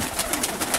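Pigeons cooing softly and repeatedly, a bird-loft flock in Perama kept for diving flights, with several faint breathy coos spaced through a steady background hiss.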